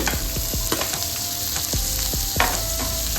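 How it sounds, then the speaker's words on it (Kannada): Onion, green chilli and curry leaves sputter and crackle in hot oil, with a steady loud sizzle and sharp popping bursts throughout, no voices. "ಒಂಚೂರು ಚಟ್ಪಟ್ ಅಂತ ಸೌಂಡ್ ಆಗಬೇಕು"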